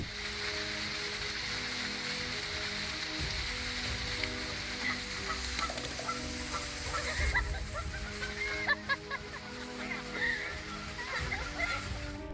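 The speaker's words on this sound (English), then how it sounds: "Who would have thought a goose could make a gorilla back down?" A goose confronting a gorilla gives a few honks over a constant rushing, rain-like background, with the calls rising briefly above the steady noise.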